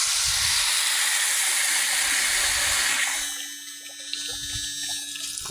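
Water gushes from a pipe on a farm, pumped by a motor, a loud rushing hiss that drops off after a few seconds to a quieter trickle and splashing.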